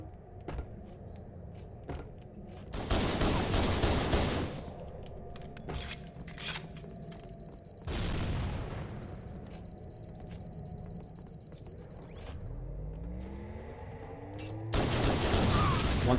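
Shotgun blasts in a 2v2 Hang 'Em match of a multiplayer shooter, several loud broadband bursts spaced apart across the stretch, with quieter game effects and a high tone in between.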